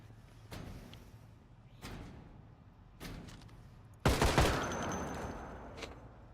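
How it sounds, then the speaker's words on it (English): Gunfire in the video game Project Zomboid: several sharp shots spaced about a second apart, then a louder, denser burst of firing with a ringing tail, all without talk. "They heard the gunshots."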